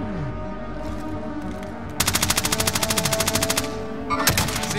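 Automatic gunfire in Call of Duty: Modern Warfare: a rapid, evenly spaced burst of loud shots over steady game ambience, then a shorter burst near the end.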